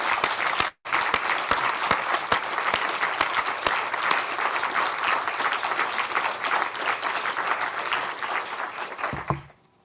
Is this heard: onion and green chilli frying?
no